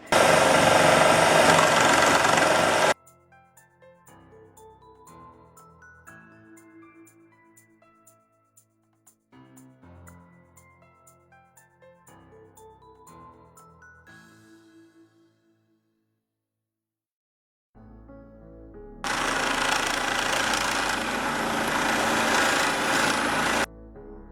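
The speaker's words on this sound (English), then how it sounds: "For turning, I invested in a set of decent wood turning chisels" A power drill rigged as a small wood lathe turns a workpiece under a turning chisel, loud grinding, whirring bursts at the start and again near the end, with music playing in between.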